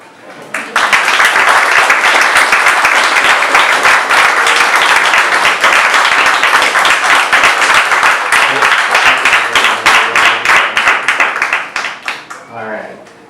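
A long, loud burst of applause from a crowd at a graduation, dense clapping sustained for several seconds before tapering off.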